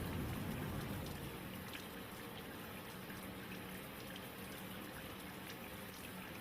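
Running tap water flows steadily during a surgical hand scrub while fingernails are cleaned, a constant close rushing stream with no talk over it.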